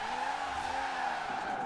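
A rear-wheel-drive car drifts in Forza Horizon 4, its tires squealing in a sustained, wavering screech over a steady engine drone, loud and close throughout.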